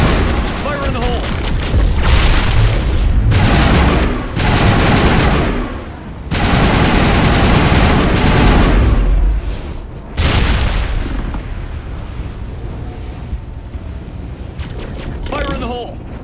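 Grenade explosions and gunfire in Mass Effect while fighting Geth in a colony tower: loud, dense booms and rapid weapon fire fill the scene with few breaks, and voices shout over the din.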